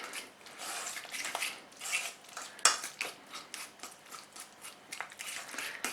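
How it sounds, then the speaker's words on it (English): Wet ingredients for vegan, gluten-free, oil-free carrot brownies, including peanut butter and vanilla, mixed by hand in a bowl: steady scraping and clinking of a utensil against the bowl, close and continuous, with no talking. "I'm gonna just mix up all the wet ingredients"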